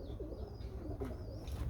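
Pigeons on an overhead wire cooing softly in low, repeated murmurs, with faint flutters and distant ambient noise around them.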